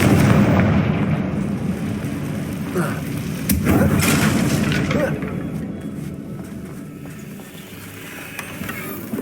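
A Confringo blasting spell explosion from the video game Hogwarts Legacy bursts loudly up close, followed by crackling impacts and a rumbling decay as game sound fades, with a voice calling out the spell.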